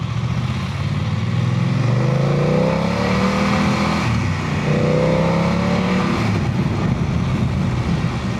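A car drives past on a windy road, a loud close engine drone with rising and falling tones as it approaches and goes by, over constant wind rumble.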